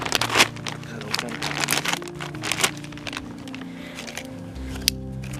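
Plastic packaging for spring-blooming flower bulbs is cut open with crinkling, crackling snips and rustles, close and moderately loud, over a steady low background hum.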